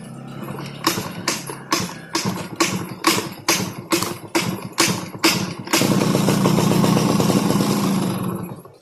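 A motorcycle engine fitted with a Mikuni carburetor turns over in about a dozen rhythmic, chugging cranking pulses, then catches and settles into a loud, steady idle close by.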